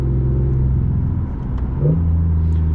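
Inside a 2020 BMW i8 coupe on the autobahn, synthetic engine sound through the car speakers hums, its pitch dropping and then jumping on downshifts, with a steady low rumble underneath.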